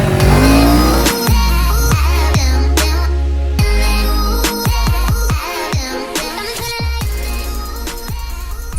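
A CFMOTO 700 CL-X Sport motorcycle engine roars loud and close, revving up through repeated gear changes with sharp drops in pitch between pulls.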